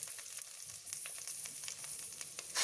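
Brinjal pieces frying in hot oil for a Karnataka-style ennegayi give a steady, close crackling sizzle with scattered pops, ending in a sudden louder burst of hiss; no one speaks.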